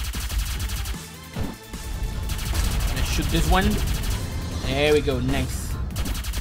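Gunfire from the arcade shooter Juanito Arcade Mayhem, rapid bursts of game shots layered with electronic effects and music, while a player talks over the action.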